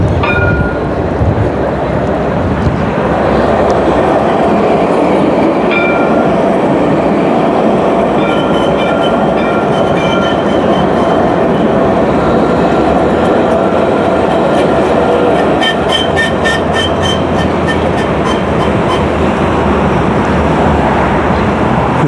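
A light rail train rolls steadily from Damascus Gate to Safra Square in Jerusalem with a loud, continuous rumble and rattling of the car, with faint rhythmic clicks of the rails.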